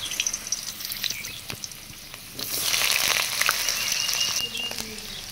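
Potatoes fry in mustard oil in a wok with a steady hiss that swells into a louder sizzle partway through, punctuated by faint clicks and stirring taps, with no talking.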